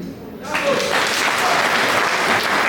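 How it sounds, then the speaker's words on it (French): Audience applause breaks out at an award gala honoring entrepreneurs, swelling suddenly after a brief lull into a full, sustained round of clapping while a voice speaks over it. "on applaudit très très fort pour Tatiana Nyamaoua"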